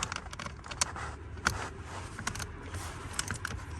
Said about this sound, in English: I'm gonna use 8mm socket right there